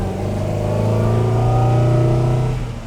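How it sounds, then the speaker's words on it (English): An Alfa Romeo 1900C Super Sprint runs close by. Its engine holds a loud, steady, rich drone with a slight rise in pitch, which fades at the end. No one speaks. "I also like the sound of the gearbox in it."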